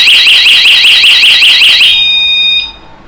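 A magnetic door and window anti-theft alarm warbles rapidly, loud and piercing, for about two seconds, then cuts off, leaving a faint ringing tone that fades out.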